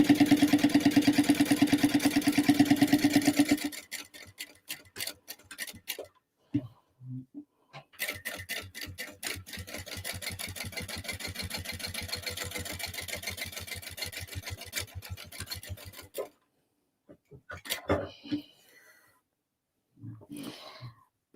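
A sewing machine stitches a slip pocket onto a crossbody bag, running in bursts of rapid, even needle strokes separated by short pauses and quieter handling.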